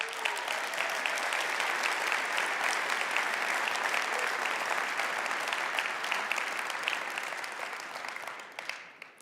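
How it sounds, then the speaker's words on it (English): Sustained applause from a conference audience, a dense, even wash of clapping that holds steady for several seconds, then thins and fades out at the end. "Please join me in giving them a big round of applause."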